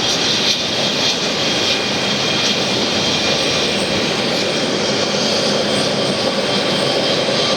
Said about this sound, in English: Certainly my favorite jet.